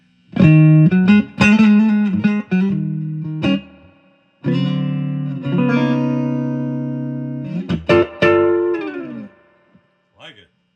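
A Stratocaster is played through a drive-modded 1965 Super Reverb amp, with clean-to-lightly driven chords and sustained notes in two phrases separated by a short pause, ringing out near and loud.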